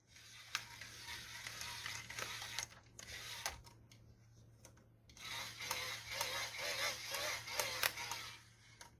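A hand crank on an emergency solar LED flashlight radio is turned in irregular bursts, giving a faint whirring rattle with a short pause midway, over a steady low hum.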